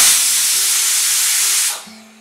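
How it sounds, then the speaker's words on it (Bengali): A pressure cooker of rajma (kidney beans) on the stove lets out a loud, steady hissing blast of steam for nearly two seconds, then cuts off abruptly and leaves a faint low hum. "প্রেশার কুকারটাকে ওভেনে বসিয়ে আমি 4-5টা সিটি দেব"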